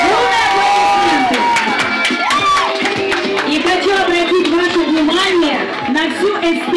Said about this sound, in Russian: поэтому это бурные аплодисменты!